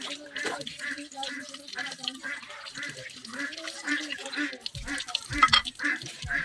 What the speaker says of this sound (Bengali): হাতটা ধুয়ে নিই।